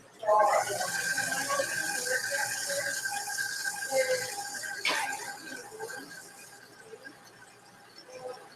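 An electric mixer whirs steadily as it beats cake batter made by the creaming method. The motor runs continuously close by, with a brief clack near the middle, then fades away.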